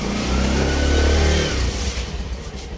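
A motorcycle engine revs hard while warming up, a loud sustained roar that drops off midway into uneven idling pulses, close by with no talk.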